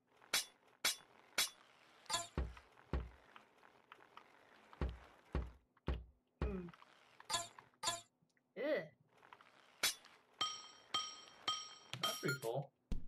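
Glass shattering and clinking effects in the video game Happy Wheels, a string of sharp, separate crashes and tinkles at irregular intervals, with a denser ringing burst near the end.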